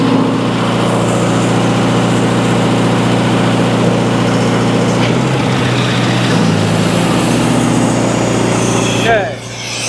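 An old Lindsay air compressor runs with a loud, steady engine drone at high speed and fails to idle down. The drone holds even for most of the stretch, then drops away near the end.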